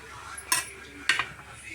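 Two quick metallic scrapes of a spatula against a pan as a homemade dosa is flipped, short and sharp with a quiet pause between them, no talking.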